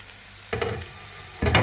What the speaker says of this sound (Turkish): Biraz böyle çevirip kızarsın.